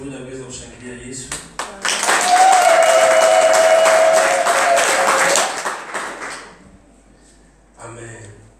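A church congregation at a year-end prayer service breaks into loud, sustained clapping and cheering for Jesus, with a voice shouting above it before the noise fades and talk resumes.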